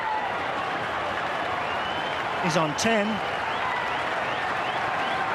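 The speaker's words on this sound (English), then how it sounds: "Crowd roaring at the whacker" A cricket crowd roars and applauds in a steady, loud wash of cheering, while a commentator speaks briefly over it.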